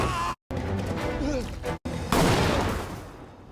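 A single loud gunshot bursts out in a tense scene from the western drama series 1923, a sharp crack that trails into a noisy decay after a stretch of dense dramatic sound.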